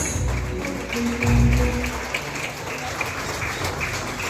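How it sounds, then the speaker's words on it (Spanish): Dense crowd applause for a quinceañera at a fifteenth-birthday party in Livingston, Guatemala, rolls on as a continuous patter. A low, booming hum of music or room noise swells beneath it midway. "Démosle fuertes aplausos a nuestra quinceañera Dayani Noemi de la Cruz Montesinos"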